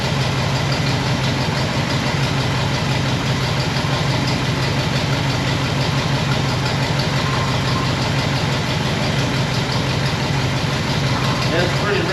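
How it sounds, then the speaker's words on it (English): A 1960 Pontiac Bonneville's 389 V8 idles close by with a steady, rich low rumble and an even, continuous throb. "Listen to that old motor. 389."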